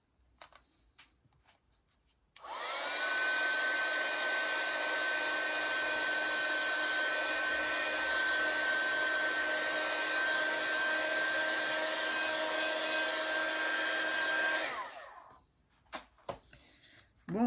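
A hair dryer runs to dry glue on a handmade paper card, switching on abruptly and blowing in one steady, close, high-pitched whoosh for about twelve seconds before cutting off, with faint handling noises around it.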